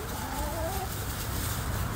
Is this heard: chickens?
yes